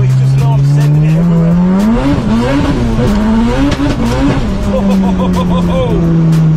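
A front-wheel-drive Honda Civic EK3 hatchback accelerates hard. Its loud engine note climbs and dips through gear changes, heard up close from inside the car as it is pushed along the road.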